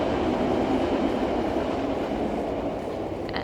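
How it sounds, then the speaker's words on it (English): A commuter train rolls past at steady volume, a continuous broad rumble and rail noise with faint clatter, dominating with no talk over it. "I know, it's a commuter train."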